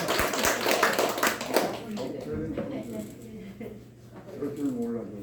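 Members of a Korean church congregation clap briefly at a Sunday worship service, a short scattered patter that dies away after a couple of seconds as people talk nearby.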